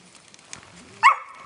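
A dog gives a single short bark at a temperament test, fairly close and brief, after a quiet stretch of faint background sounds.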